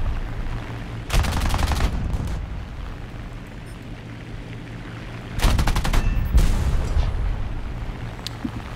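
Two loud bursts of rapid machine-gun fire from the nose guns of a CR.32 biplane in War Thunder, each lasting about a second, over a steady droning engine.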